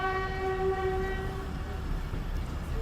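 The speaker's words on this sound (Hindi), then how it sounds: "ये इस वक्त लोकोमोटिव जो है वो खोजक टनल में इंटर हो चुका है" Diesel locomotive entering the Khojak tunnel near the Afghan-Pakistan border: a steady, sustained horn tone sounds over a continuous low rumble of the train rolling, with no speech.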